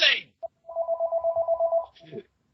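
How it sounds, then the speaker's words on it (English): A telephone rings with a steady electronic trill of rapid pulses lasting over a second, loud and close, with a voice speaking just before and after it. "Phone!"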